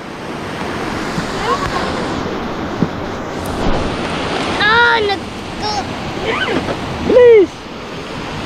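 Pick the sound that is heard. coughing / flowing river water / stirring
flowing river water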